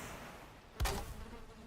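Bees buzz around beehives in the Valheim video game, a soft steady drone with one brief louder swell midway.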